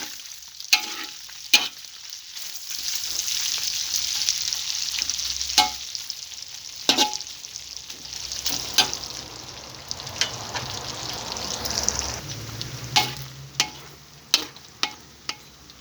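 Garlic and shallots fry in rendered pork fat left over from crisping pork, a steady close sizzle running throughout, broken by sharp clinks and scrapes of a utensil stirring and ladling the oil.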